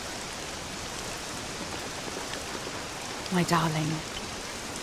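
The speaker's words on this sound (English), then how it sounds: "This accursed rain will chill ye to the bone." Steady rain falls in the video game Dragon Quest VII Reimagined, an even hiss throughout, with a short spoken line near the end.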